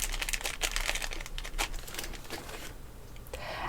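Spongy lichen-type moss is squeezed and handled up close, giving a run of soft, dry crinkling and crackling bursts that come and go steadily with no talk.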